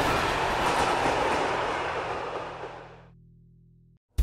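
A passenger train runs along a Russian railway near Smolensk, a steady loud rumble and rush of wheels on track that fades away, then cuts off abruptly.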